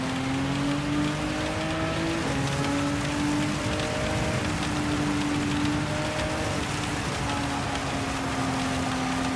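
Rain falling on a race track in Gran Turismo 7 during an online community race, a steady dense hiss spread across the whole clip, with car engine tones droning and shifting underneath.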